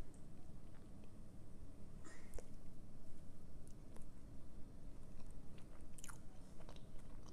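Someone bites into and chews a soft snickerdoodle cupcake cookie with cinnamon flavour, giving a few faint crunches and moist chewing sounds close to the mic under a steady broadband background hiss.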